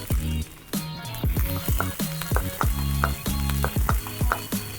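Garlic and onion fry in oil for a Sichuan-style meat sauce, with a loud crackling sizzle and a run of rhythmic stirring scrapes against the pan, close and alone with no talking.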